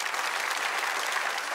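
Brief burst of steady audience applause from a studio crowd at a comedy stage show, dense clapping throughout with no talk over it.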